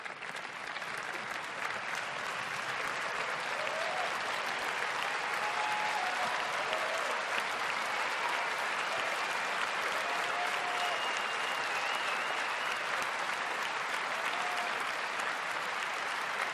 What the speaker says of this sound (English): Please stand up. I am applauding you.